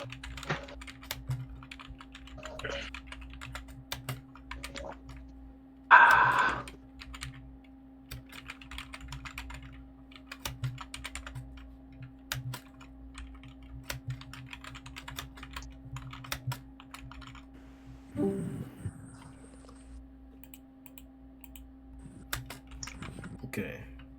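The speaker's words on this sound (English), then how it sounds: "Sorry, I'm typing slow, bro. My keyboard spacebar is like the springs for are effed." Fingers tap a computer keyboard whose spacebar has worn-out springs, producing faint, irregular clicks scattered across a long stretch, with a steady low hum underneath and occasional voices speaking.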